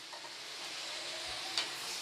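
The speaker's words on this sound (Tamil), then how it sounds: "மஷ்ரூமை சேர்த்து ஒரு 2 நிமிஷம் நல்லா வதக்கி மூடி வைங்க" Mushrooms stir-fried in a pan with salt, giving a faint, steady sizzle with a light scrape of stirring near the end; no voices.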